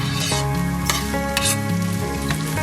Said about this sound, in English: Just stir it around so it doesn't get burnt.